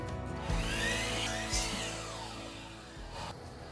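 Power saw whining through a wooden board for a barn wall, a continuous harmonic drone with a couple of sharp thumps early on, close and fairly loud, fading slightly toward the end.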